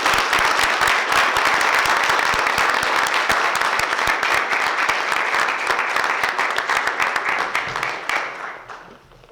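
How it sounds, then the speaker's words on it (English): Sustained applause from an audience at a historical society awards ceremony, honoring the winners; dense, steady clapping filling the room, then thinning and fading out near the end. "let's give one more round of applause to our winners tonight"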